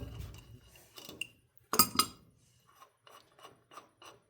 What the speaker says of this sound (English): I start with removing the top bolt.